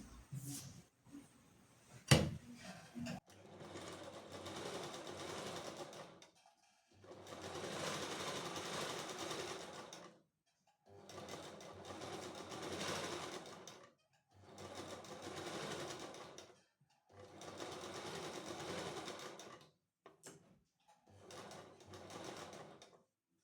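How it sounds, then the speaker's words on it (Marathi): A sewing machine stitches around the round neckline of a full-sleeve blouse in several bursts of steady whirring, each lasting a few seconds and separated by quiet pauses, with a sharp knock near the start. "तर आता गोल गड्याला आपण टिप टाकून घेऊयात."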